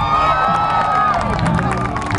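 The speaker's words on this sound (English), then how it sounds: "let's make some noise and cheer on Callie" A crowd at a dock-jumping dog event cheers and shouts continuously, dense and loud, with a few whoops and claps in the mix.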